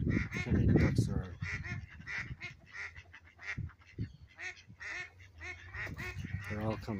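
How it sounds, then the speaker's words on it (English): A flock of ducks quacks and honks repeatedly in busy overlapping calls, fairly close, while a person talks over them. "So many ducks are."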